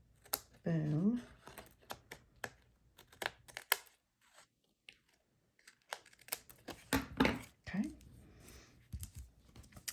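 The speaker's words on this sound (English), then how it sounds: "I'm gonna take my snips and I'm gonna snip it." Paper being cut with craft snips while making plaid greeting cards, a string of quick, close crisp snips and crinkles between stretches of speech.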